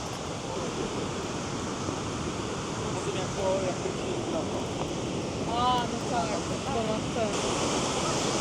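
Rushing water from a waterfall in Krka National Park, Croatia, a steady broadband roar filling the whole clip, with faint bird chirps and a few soft voices nearby.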